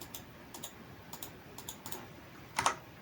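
Computer keyboard keys pressed to paste a command while installing Composer on Linux, a few soft close clicks followed by a slightly louder double keystroke, quiet background.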